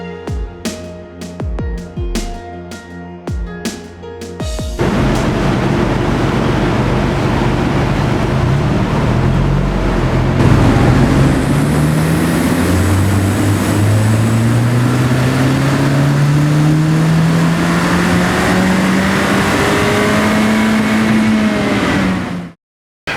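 A 10th gen Honda Civic on a dyno rig, its engine winding up steadily through the gears in a long, loud rising pull that holds for most of the run before cutting off abruptly, following a few sharp clanks at the start.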